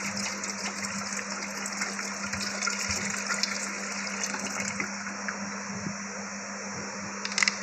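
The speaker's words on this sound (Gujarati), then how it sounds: "તો આ છે ઇલેક્ટ્રિક કેટલ અને એમાં મેં નાખી દીધું છે પાણી." Water fills an electric kettle in a home kitchen while cooking without a gas cylinder, a steady close rushing pour that runs evenly throughout with no talk over it.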